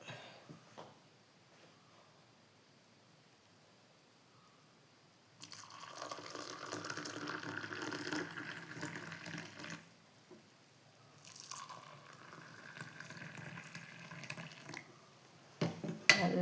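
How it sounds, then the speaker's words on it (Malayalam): Milk poured into a badam (almond) drink mix in a home kitchen, a soft, faint liquid stream in two pours of a few seconds each, separated by a brief pause. "അപ്പം ഇനി ഇതിലേക്ക് നമുക്ക് പാൽ ഒഴിച്ച് കൊടുക്കാം."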